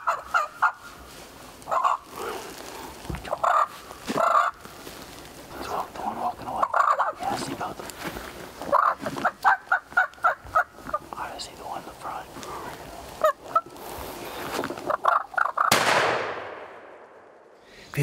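A wild turkey gobbles repeatedly on opening day of a turkey hunt in a wooded bottom, loud bursts in irregular rhythm with soft whispering and close rustling between calls.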